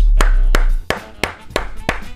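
Hand clapping at a gaming desk, seven sharp claps in an uneven rhythm, close and loud over a brief low hum.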